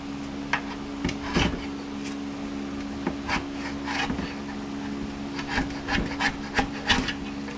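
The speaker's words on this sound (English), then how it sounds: "Yeah, I'm going to have to scrape all this off." Metal scraper rasping an old, baked-on gasket off an oil pan in a shop, with repeated short scraping strokes in irregular bursts over a steady low background hum.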